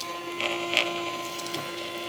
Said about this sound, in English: This is a thermal printer, so thermal, it uses heat, and that's what transfers the image onto the paper